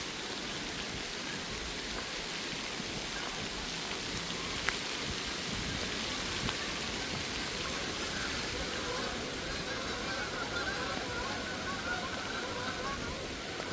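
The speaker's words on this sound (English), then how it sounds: "Oh gosh, it's raining good now." Steady rain pattering on surfaces outdoors on a secluded walk, a constant even hiss of drops throughout, moderately loud with no break.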